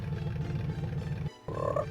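A frog croaks in Alone in the Dark, a low rhythmic call running for over a second, a brief pause, then a sharper, higher croak, fairly close and alone without talk.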